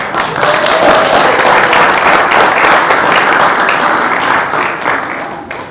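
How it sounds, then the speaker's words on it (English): Audience applause fills a school board meeting, a dense, steady wash of many hands clapping for nearly six seconds, loud throughout before easing slightly at the end. "So let's give another round of applause for Lavina, Aislinn, Stella, and Aaliyah"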